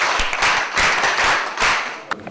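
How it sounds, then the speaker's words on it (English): A group claps together in a brief burst of overlapping applause, loud and close, fading out after a couple of seconds. "Clap for Matilda."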